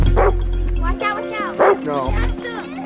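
Dogs bark and yip loudly in short bursts close by, overlapping with people talking in a film scene.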